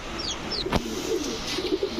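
Pigeons at a pigeon farm selling racer, giribaz and fancy breeds, including white pied racers, give soft low coos throughout, with a brief sharp knock midway and faint chirps above a steady background hum.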